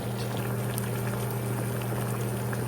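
Water boiling for a thermometer calibration test, a steady bubbling roil with a low hum held evenly throughout, close and continuous with no speech.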